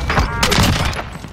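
A short, close burst of overlapping gunfire in the video game Warzone, a quick volley of cracks and thumps with no talking.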